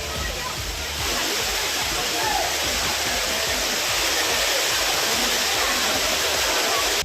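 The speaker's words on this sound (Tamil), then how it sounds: "சுற்றுலா பயணிகள் அருவிகளில் உற்சாகமாக குளித்து வருகின்றனர்" Courtallam waterfalls in Tamil Nadu, with tourists bathing, make a loud, continuous roaring rush of falling water that stays steady throughout with no letup.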